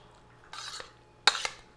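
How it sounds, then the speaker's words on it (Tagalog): A utensil scrapes and clinks against a pan while fish and egg are stirred with sauce and salt, two short bursts of close metallic scraping in a quiet small kitchen. "Halo, halo, halo. Para ma-mix yung mga sauce tsaka yung asin."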